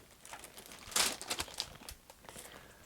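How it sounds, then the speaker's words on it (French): Protective paper inside a Nike Air Max BW sneaker box crinkles and rustles softly, with a brief louder crumple burst followed by lighter scattered crackles, quiet and close with no talking. "on a le papier de protection"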